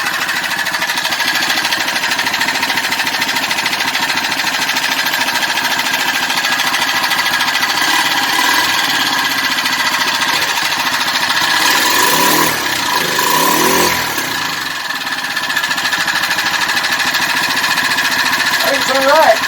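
A Predator 79cc small engine idles steadily with a slightly rattly, buzzing drone, loud and close, its pitch wavering briefly near the middle, and a voice talks over it.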